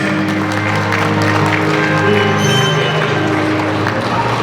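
Wedding guests applaud in a dense, continuous wash that holds at a loud, even level throughout, with music playing underneath.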